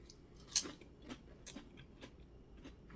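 Crisp bites and crunchy chewing of skin-on Utz Red Hot potato chips, a sharp bite near the start followed by several quieter crunches, close and alone with no talking.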